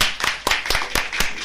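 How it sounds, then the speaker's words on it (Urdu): A studio audience at a children's television show claps in a loose, rhythmic pattern of about six distinct strong beats over a softer scattered patter, close and fairly loud. "اس کے لیے ایک بار تالیوں"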